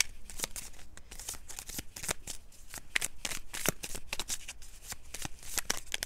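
Tarot cards shuffled by hand in a steady run of crisp riffling snaps and slaps, close and fairly loud, with no voice over it.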